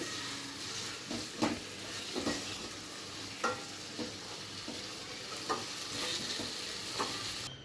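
Tomatoes fry in a pan with a constant soft sizzle, broken by a regular series of stirring scrapes against the pan.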